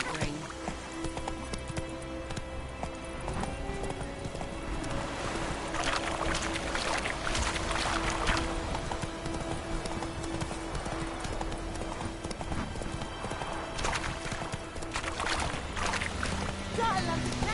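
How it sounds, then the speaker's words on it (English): Horse hooves gallop in The Witcher 3 video game, a fast, steady clip-clop that runs the whole way through over a dense bed of ambient game sound. "Run, Roach"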